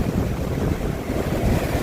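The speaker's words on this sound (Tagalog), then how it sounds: "Nandito tayo sa tabing dagat." Wind and waves roar at a seaside, broad and close, with heavy wind buffeting on the microphone and no voices.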